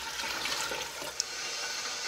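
Four cups of water pour into a pot to make a chow chow brine with vinegar, a brief steady splashing rush of liquid heard close up and alone.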